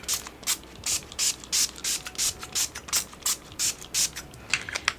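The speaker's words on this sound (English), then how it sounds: "once I spray this, you know, put the really fine hair on it, then I spray it again." Repeated short hissing bursts of hairspray from an aerosol can, about three per second in a steady rhythm, close and fairly loud.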